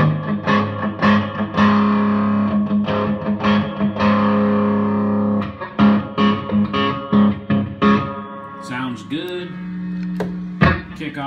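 Open chords ring out through a Fender Bassbreaker 45 combo amp on a high-gain setting, loud distorted strums chopped in a rhythmic pattern, then sustained chords and short stabs near the end.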